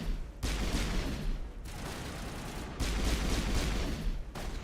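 Mass Effect gunfire: dense, sustained bursts of shooting in loud rolling volleys with brief gaps between them, close and continuous, no talk over it.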